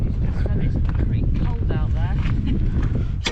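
Gusty wind sweeps the east coast of Scotland, roaring loudly and continuously as it buffets the microphone, with faint voices barely showing beneath it.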